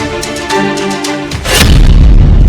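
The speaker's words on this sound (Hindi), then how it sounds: "परीक्षण के दौरान इस जैकेट पर कई गोलियां दागी गई" Loud booming gunfire bursts out during testing of a DRDO bulletproof jacket, with a heavy blast that rumbles and lingers, preceded by a tonal droning layer.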